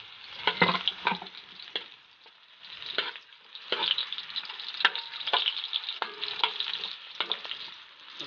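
Chopped onion hits sizzling garlic in a pan for paksiw na pata, a fairly quiet crackling fry broken by irregular bursts of spatula scraping and stirring.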